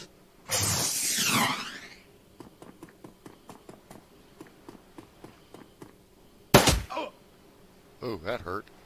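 A single sharp gunshot in the Shadowrun Returns video game rings out near the end, after an earlier harsh burst and a run of soft thumping steps.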